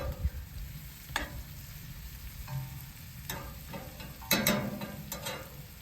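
Smoked baked beans cook in a cast iron pan outdoors, giving a steady low sizzle and frying crackle with a few scraping stir sounds from a utensil against the pan.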